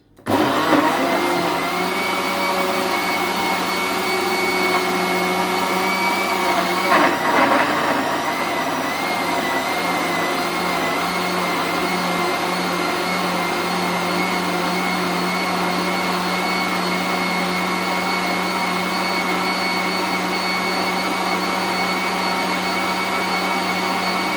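Blender mixing a red cabbage vinaigrette whirs loudly and steadily, starting abruptly and holding a constant motor drone with a brief wobble partway through.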